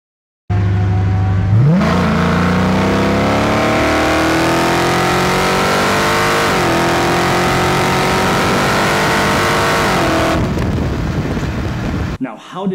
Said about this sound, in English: how did I get that exhaust sound?